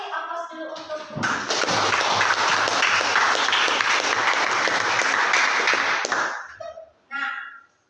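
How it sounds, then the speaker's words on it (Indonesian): A classroom full of students bursts into dense clapping for a classmate, sustained for about five seconds before cutting off abruptly, with a teacher talking just before and after. "Kasih aplaus dulu untuk Umi."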